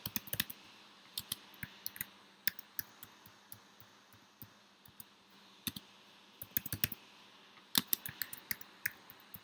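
Light, quick clicks on a computer keyboard as a new password is typed, coming in short uneven bursts with pauses between them, close and quiet, with no talking.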